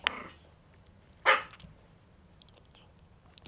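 A dog gives two short, sharp barks indoors, one at the very start and a louder one about a second later, with quiet room tone between and after.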